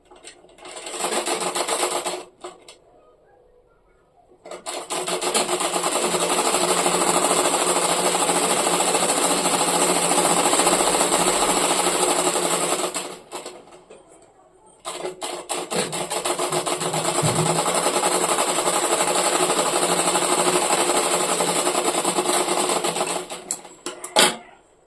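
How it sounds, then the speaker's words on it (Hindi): A sewing machine stitches along the edge of a blouse lining in long, loud, continuous runs of rapid mechanical whirring, broken by short pauses where the stitching stops and restarts. "ऐसे करके मैं इसके किनारे से एक सिलाई लगाऊंगी"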